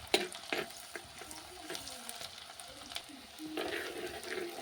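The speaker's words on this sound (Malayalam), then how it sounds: "നന്നായിട്ട് വഴറ്റി കൊടുക്കാം. ഇളക്കി നന്നായിട്ടൊന്ന് വഴണ്ട് വരണം." Sautéing in a pan for a fish curry, with soft sizzling and intermittent scraping of a stirring utensil, quiet and close, no talking.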